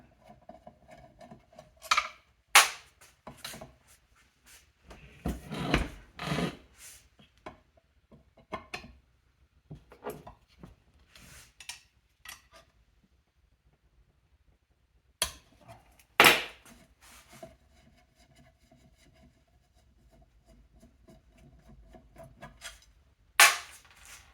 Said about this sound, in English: now we can take out the other 3 screws